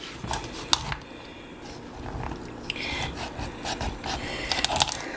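A knife cuts down along a raw chicken backbone to flatten the bird for the grill, making close, crunchy scraping and rubbing sounds in short uneven strokes, with no voices.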